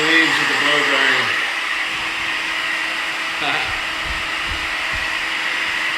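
Hair dryer blow drying a short layered bob haircut, a steady airy whir at close range, with a voice talking over it early on.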